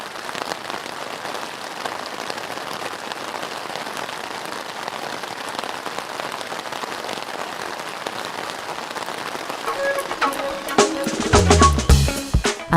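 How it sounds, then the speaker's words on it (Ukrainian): Steady rain falls on a surface, a dense, even patter throughout, with a few sharper, louder drops and knocks near the end. "Ми спали солодко, заколисані рівномірним шумом дощу."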